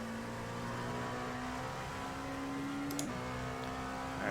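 An LMP2 prototype race car pulls hard on throttle at Canadian Tire Motorsports Park, a steady, close engine drone climbing in pitch, with a brief shift blip partway through before the engine keeps pulling.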